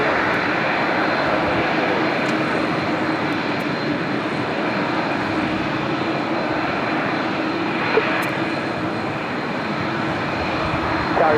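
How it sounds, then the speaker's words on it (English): A United Airlines jet arriving from Chicago O'Hare touches down at LAX, a loud sustained engine roar that stays steady throughout. "we just had United Airlines Flight 2234 coming in from Chicago O'Hare, touching down"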